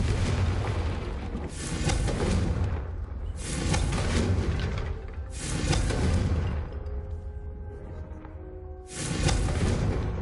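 Explosive blasts from the Confringo spell cast in a Harry Potter-style video game, four loud booming bursts with whooshing tails spaced a couple of seconds apart, filling the scene with heavy rumble.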